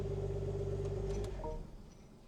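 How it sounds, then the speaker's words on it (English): A BMW G42 M240i idles with a deep, steady rumble from close by. After about a second and a half it winds down as the engine is switched off, leaving only a faint low hum. "I don't know if y'all can hear me over the sound of that engine"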